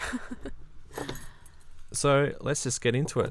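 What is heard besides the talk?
keys jangling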